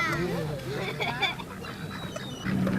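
Ducks quacking as they are fed bread, a busy chatter of calls under people talking nearby, recorded outdoors in San Francisco around 1955.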